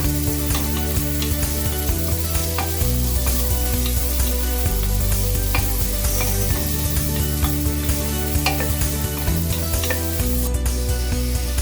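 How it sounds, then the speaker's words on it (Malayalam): Sliced onions sautéing in a pan for vegetable kurma, a steady sizzle with occasional stirring scrapes, continuous and fairly loud under background music. "അടുത്തതായി 2 സവാള കട്ട് ചെയ്തത് ചേർക്കണം. ഇതൊന്ന് വഴറ്റിയെടുക്കണം."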